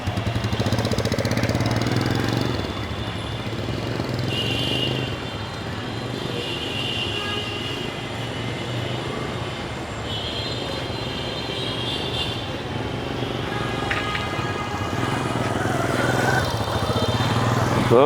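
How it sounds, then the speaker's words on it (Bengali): A modified Road Master 80cc motorcycle engine runs steadily for the whole stretch, a loud, close, continuous buzzing drone with a slight rise and fall in level and no talk over it. "এই তো দেখেন বাইকটা রানিং করলো তো"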